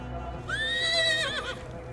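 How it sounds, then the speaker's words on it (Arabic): A horse gives a loud, clear whinny lasting about a second, rising and then wavering as it fades. Faint hoof clip-clop sits under it, and the horse is ridden at a run, kicking up dust. "صوت حوافرها كأنه إيقاع معركة قديمة أو بداية قصة عظيمة."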